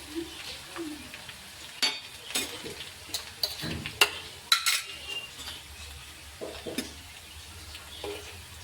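Garlic frying in a pan while being stirred, a low sizzle beneath sharp scattered clicks and scrapes of a spoon against the pan.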